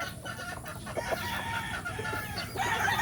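Chickens clucking and crowing close by while being bathed, a steady stream of overlapping clucks with a louder burst near the end and no talk.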